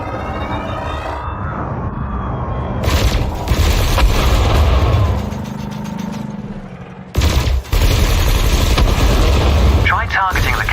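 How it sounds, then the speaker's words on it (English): Spaceship weapons in Elite Dangerous: ship cannon shots and laser fire, heard as loud booming bursts and sustained zapping blasts mixed with ship hum and rising electronic tones, while a voice talks throughout. "Your cannon will automatically reload until the ammunition supply runs out. Meanwhile, your laser will fire until the capacitor is depleted"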